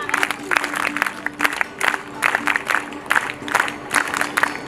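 An audience at a convocation ceremony for a girls' character-building camp at Aryan Institute in Agra claps in uneven bursts of applause, with short pauses between rounds and a voice faintly audible underneath.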